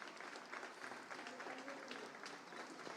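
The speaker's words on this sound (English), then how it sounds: "Maybe just give them a chance to finish clapping" A crowd at the End GBV Namibia campaign launch in Windhoek claps after a survivor speaks, quiet, scattered applause with faint voices underneath.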